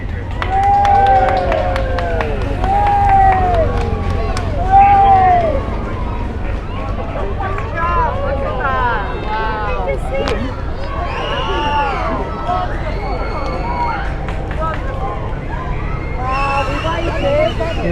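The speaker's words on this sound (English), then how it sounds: "See the crowd buzzing now" A large crowd buzzes with excited chatter and calls as King Charles III arrives, a continuous murmur of many voices with scattered shouts, a low traffic rumble underneath and distant sirens.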